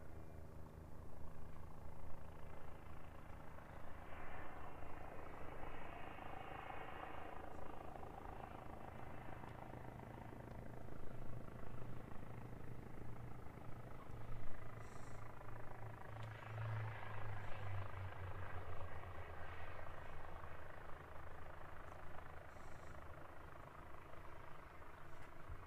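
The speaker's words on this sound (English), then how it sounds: "Hear the engines of that Air New Zealand A320 spooling up as well" Air New Zealand A320 jet engines spool up at Christchurch Airport, a steady distant roar with a low hum that swells and rises midway and stays strong through the end.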